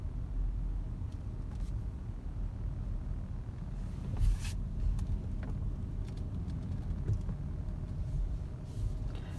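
A BMW car driving, heard from inside as a steady low road and engine rumble with faint rattles and a slight swell midway, fairly quiet, with no talking.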